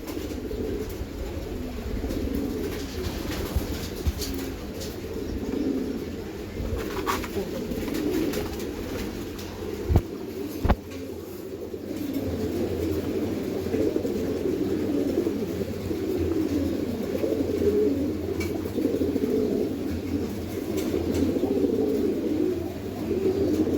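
Silver pigeons coo continuously in a pair at a farm loft, the low warbling hum steady throughout, broken only by a couple of sharp knocks or wing flutters midway.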